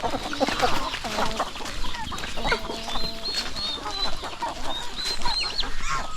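Farm chickens cluck and squawk in a busy overlapping chorus while waiting for feed, close and continuous with no voices over them.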